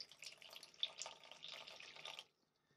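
Water is poured into a tarantula's water dish. A soft trickling splash lasts about two seconds and then stops, leaving quiet.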